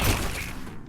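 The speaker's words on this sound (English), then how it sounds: "Plasma cannon's hard to describe." A plasma cannon weapon in the sci-fi shooter Firefall fires a single short, heavy burst that fades quickly, standing alone without talk.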